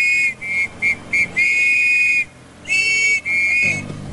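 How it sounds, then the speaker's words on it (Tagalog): Sharp, high whistle blasts from rescuers during flood rescue operations in Provident Village repeat in a series of short and longer bursts, loud and close, with a pause partway through. "Alam na ito ng mga taga-Provident pag sumisipol kami ngayon."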